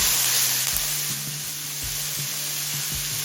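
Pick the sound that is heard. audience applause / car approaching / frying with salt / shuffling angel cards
frying with salt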